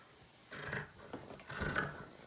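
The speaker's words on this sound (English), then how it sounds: "you're going to take your scissors and you're going to cut up until that imaginary line that's going across" Scissors cutting through a shirt, heard as two short crisp bursts of snipping and rubbing fabric, close and fairly quiet with no talk.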